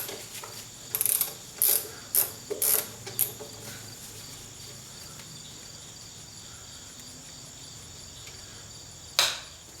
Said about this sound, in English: See how far along I can get with a ratchet.